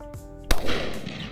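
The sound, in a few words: shotgun shots at partridge and pheasant hunt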